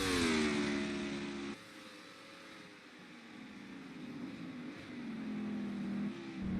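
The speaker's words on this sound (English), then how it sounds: "Coming down the final straight, checkered flags in the air, and Tyler Reddick wins at Horizon Mexico." A NASCAR-style race car engine in a racing video game roars down the final straight at a Mexico track, with a loud sustained drone and pitch shifting across gear changes and passing cars.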